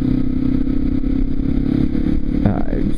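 Dirt bike engine fitted with a 47-tooth sprocket, heard in snow, running steadily with a loud, close mechanical drone and some clatter, then a short rise in pitch near the end.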